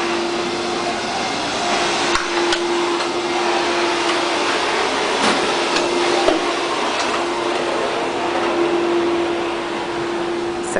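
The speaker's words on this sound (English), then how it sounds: "Sorry, they're vacuuming, so it's a little loud." A vacuum cleaner drones steadily and loudly inside a cruise ship's piazza, a constant whine with a few faint knocks and clatters along the way.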